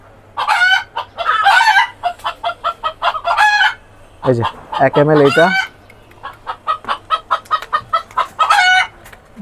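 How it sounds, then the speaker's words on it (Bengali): Chickens on a poultry farm keep up a loud, close run of rhythmic clucking and calling, with a brief burst of more excited squawking midway as a person talks over them. "মুরগিগুলো ইদানি অনেক ডাকাডাকি করে।"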